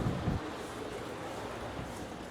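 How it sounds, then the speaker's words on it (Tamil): Steady broadband rush of running water fills the scene, constant and fairly close with no break in its texture. "தண்ணி ஓடிட்டு இருக்கு சொல்லு"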